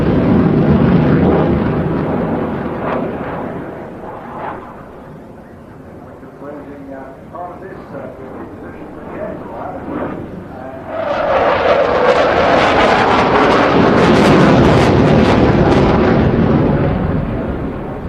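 A Eurofighter Typhoon jet flying at the Bournemouth Air Festival, a loud roaring engine rush that fades, then swells again into a powerful broad roar, with a commentator talking throughout.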